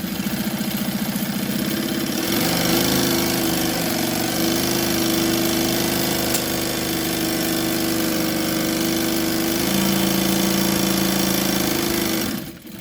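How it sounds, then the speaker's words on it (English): A sewing machine runs steadily while stitching straight down the middle of a fabric bag, a continuous close motor whir with slight changes in pitch and a brief stop near the end, no talking. "I'm going to start by sewing right down the middle."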